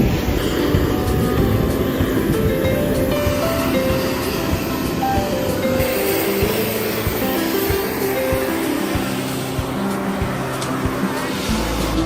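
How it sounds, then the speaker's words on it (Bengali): Steady turboprop engine drone of a De Havilland Q400 airliner, heard continuously from a cabin seat beside the wing, loud and unbroken with a low rumble and faint tonal hum. "আমাদের প্লেনের মডেল ডে হ্যাভিল্যান্ড Q400। এটি একটি টার্বোপ্রপ প্লেন।"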